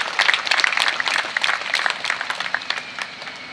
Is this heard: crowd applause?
yes